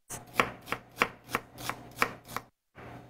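A knife slices a cored fennel bulb on a cutting board with about seven crisp, evenly spaced cuts, close and clear, then a brief pause; no voices.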